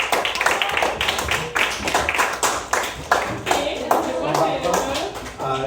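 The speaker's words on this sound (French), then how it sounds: "On va donner une acclamation." A small audience claps after a talk about someone's profession, giving distinct, uneven hand claps that come in loose bursts with gaps between them, while voices speak over and around the clapping.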